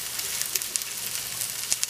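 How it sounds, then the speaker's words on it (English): Chuck roast browning in a hot pan, a steady close sizzle and crackle with occasional sharper pops, running continuously with no talking. "is first to brown it up on all sides. As it's browning"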